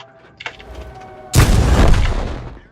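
An SU-100Y tank gun fires in a World of Tanks-style game: a sudden heavy boom that erupts after a brief quieter lead-in with a faint thump, then rolls out into a long, loud rumbling decay.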